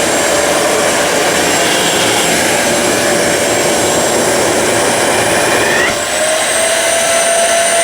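A Ryobi 1500W wet and dry vacuum runs at maximum power with a loud, steady, close whooshing roar and a high whine throughout, dipping briefly near the end before resuming.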